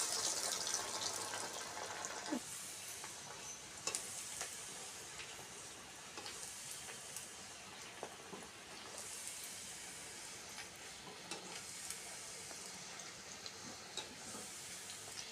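Breadcrumb-coated potato croquettes fry in hot oil with a steady, soft bubbling sizzle that holds through the clip, broken by a few faint clinks of a utensil.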